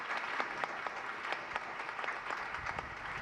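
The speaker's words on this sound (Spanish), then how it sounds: "Por favor, démosle un gran aplauso de bienvenida a ella." Steady welcoming applause from an evening summit audience, continuous and fairly distant, with individual claps standing out through the dense wash.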